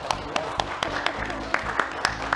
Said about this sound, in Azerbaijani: Həkimləri bir də alqışlayaq.